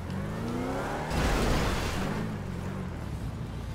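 Car engine from GTA 5 humming steadily at moderate volume, swelling briefly as the vehicle accelerates then settling back to a low drone as it slows to park.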